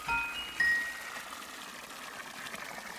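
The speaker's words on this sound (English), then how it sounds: "Hold to fill the watering can" In the video game Wanderstop, a watering can fills from a spigot with a soft, continuous trickle of water and a few faint chiming tones, heard alone with no talk.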